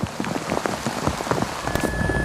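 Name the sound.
rain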